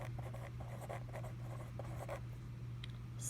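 A pen writes numbers on paper, scratching in short close strokes under a steady low hum, with no talk.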